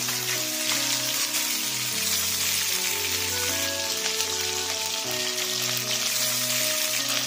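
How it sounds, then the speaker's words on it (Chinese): Marinated fish frying in hot oil with ginger and garlic in a pan, a loud continuous sizzle and crackle throughout, accompanied by steady background music. "把我们腌制好的鱼倒进去给煎一下"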